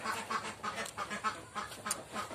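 Laying ducks penned in a farm shed quack repeatedly in a busy, overlapping chorus, close and fairly loud with no talking.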